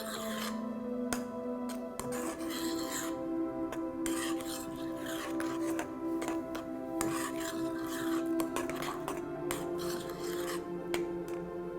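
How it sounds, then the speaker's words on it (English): Carrot cake batter being stirred with a coconut flour mixture in a bowl, a steady scraping, rasping mix that runs continuously at close range with no talk. "Dump her right in. And give it a good mix."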